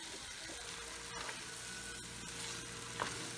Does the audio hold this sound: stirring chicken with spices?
yes